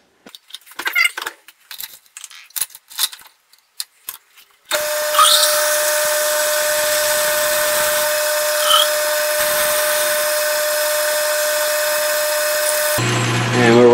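A South Bend 13-inch lathe cuts a screw blank after a few metallic clicks and taps of handling, then settles into a loud, steady, high-pitched machining whine that continues almost unchanged to the end.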